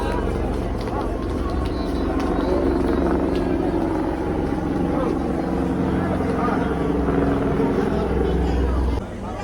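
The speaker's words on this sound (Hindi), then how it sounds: "सॉरी, मिलिट्री की हेलीकॉप्टर है।" A military helicopter drones steadily overhead with a deep rumbling beat, loud and continuous, while people talk in the background near Badrinath.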